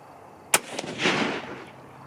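Rifle fired at a target during an ammunition test outdoors, one sharp loud crack followed by a rolling boom that fades over about a second.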